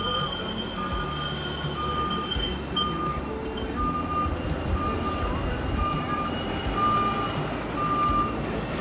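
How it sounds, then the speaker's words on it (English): A dump truck backs up near a mountain railroad line at Unaka Springs, Tennessee, its reversing alarm beeping in a steady repeating rhythm over a continuous loud rumble of engine and track-work machinery. "here comes a dump truck"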